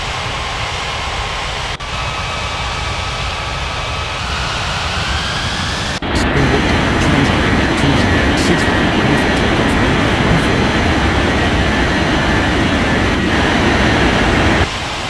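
An airliner taking off in the Unmatched Air Traffic Control game: a steady, loud jet engine roar that swells suddenly midway and holds, with a faint rising engine whine earlier on.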